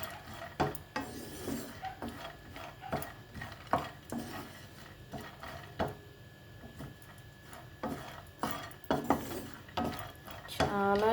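Dry fruits roasting in a pan on medium flame for date laddu, with repeated dry scraping and clattering of a spatula against the pan at an uneven pace, fairly quiet and close.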